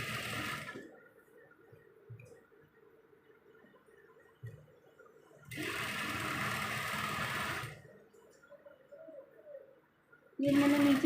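A sewing machine stitches a border onto a kurta in bursts, three separate runs of mechanical whirring with quieter pauses between them, close and moderately loud.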